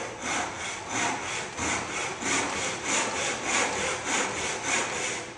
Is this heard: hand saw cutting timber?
yes